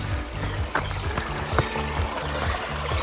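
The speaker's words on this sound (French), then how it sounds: "Cascade." A small mountain stream waterfall pours and splashes steadily close by, a continuous rushing flow tumbling over rocks, on a trail in the Suzon valley near Messigny-et-Vantoux, France.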